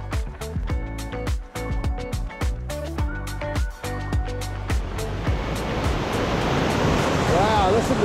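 Rushing water at the Akchour cascades in the Moroccan mountains, a broad steady roar that swells and dominates toward the end, with clattering and voices in the foreground early on.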